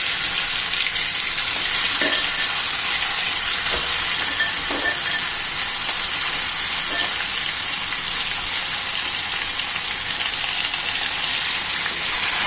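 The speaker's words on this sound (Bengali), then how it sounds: "এবার আমি এক এক করে মাংসটা দিয়ে দিচ্ছি, হাই ফ্লেমে থাকবে মাংসটা।" Chicken pieces fry in a pan over a high flame for a Gandharaj chicken dish, giving a steady, loud sizzle that holds throughout with a few soft clinks from the pan and no talking.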